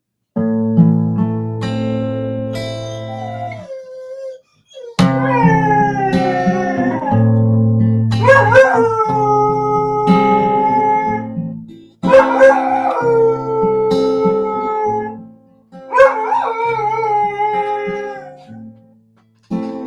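A puppy howls in long, rising and falling, song-like wails, several drawn-out howls close to the microphone with short pauses between them.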